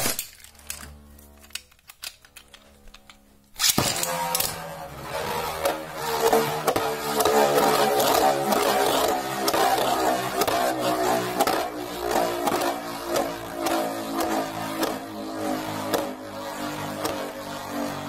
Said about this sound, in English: El Drago is just kind of spinning around the stadium.